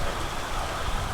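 Rain in the video game PEAK pours as a dense, steady hiss, fairly loud and unbroken, with no voices over it.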